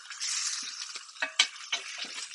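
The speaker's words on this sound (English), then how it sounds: "while the butter is melting" Butter sizzles as it melts in a cast iron pan, a short close hiss punctuated by a few sharp spoon or pan clinks.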